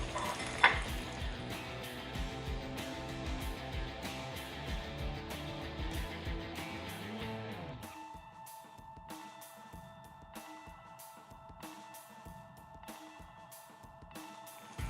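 Shrimp sizzle and fry in a pan of wilted spinach with steady crackling and bubbling, stirred with a few clinks at first, then settling into a quieter, even sizzle.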